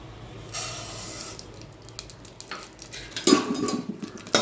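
Nylon sago pearls are roasted dry in a pan over low heat, with a soft hiss and rustle plus scattered metallic clinks and scrapes from stirring, growing busier toward the end.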